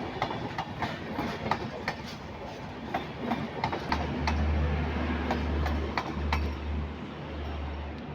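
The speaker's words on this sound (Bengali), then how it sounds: "দেখলাম ট্রেনটা চলে গেল" A train runs along a railway line beside a city market, a steady rumble with rhythmic clickety-clack wheel beats and a deeper low drone swelling through the middle as the cars roll past.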